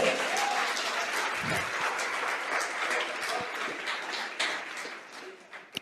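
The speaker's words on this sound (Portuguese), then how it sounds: "Você pode aplaudir ao Senhor?" A church congregation at a Nazarene sermon service applauds: dense, sustained clapping from many people at a fairly even level, easing off slightly toward the end.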